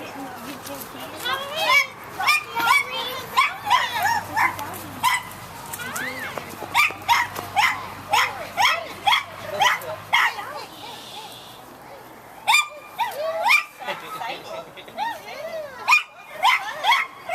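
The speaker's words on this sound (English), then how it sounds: "They're the nice dogs." Dogs bark and yip repeatedly on a Halloween trick-or-treat night, the barks close and loud, while children and adults talk and play throughout.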